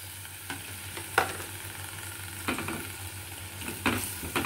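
Tomato pieces go into a hot frying pan of oil while cooking chhena kofta curry, giving a steady low sizzle with a few sharper crackling bursts and stirring clatters, no talking.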